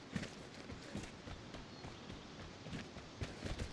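Enemy footsteps in the game Vigor, faint irregular thumps and scuffs stepping along at a walking pace over a soft background hiss.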